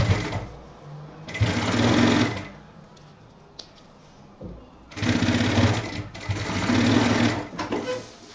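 Sewing machine stitching a 1 cm seam on a men's backpack, running in two loud bursts of steady whirring separated by a quieter pause, close by.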